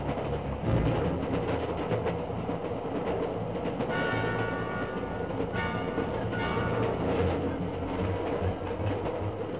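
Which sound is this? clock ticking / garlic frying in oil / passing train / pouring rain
passing train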